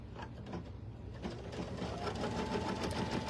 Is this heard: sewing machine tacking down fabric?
yes